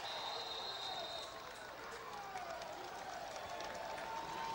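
Crowd applauding and cheering in the stands at a high school football game between Glenelg and Oakdale, a broad steady wash of outdoor noise through the whole stretch with a whistle-like tone early on.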